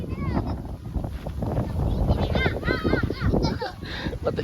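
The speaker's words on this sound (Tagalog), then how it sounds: "Napakalakas ng hangin oh." Strong wind buffets the microphone outdoors during a test flight, a continuous roaring rumble under excited talking voices throughout.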